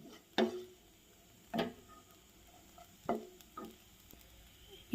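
Lentils being dry-roasted and stirred in a pan: soft, quiet scraping strokes spaced about a second apart against a faint sizzle, with no talking.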